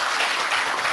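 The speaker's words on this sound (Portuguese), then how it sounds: "aplaudido também por alguns companheiros de direção e de órgãos sociais que estão aqui no auditório" Board members and club officials applaud in an auditorium, a brief, dense burst of many hands clapping at a steady, moderately loud level.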